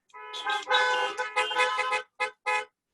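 A car horn honks repeatedly at a morning civic gathering, several loud toots of varying length, some long and sustained, ending with two short blasts.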